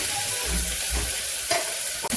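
Ingredients frying in hot oil in a pan with mustard seeds, curry leaves and chilli, a steady sizzle with a few brief stirring clatters, close and fairly loud, no voices.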